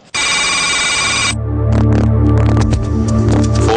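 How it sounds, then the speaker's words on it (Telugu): A telephone rings on the Telugu Deal or No Deal game show: a bright electronic ringtone cuts in loud and sustained, then gives way to rhythmic pulsing tones over a low hum and throbbing studio music. "ఫోన్ వచ్చింది."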